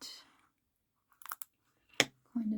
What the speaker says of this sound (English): did you hear that crunch?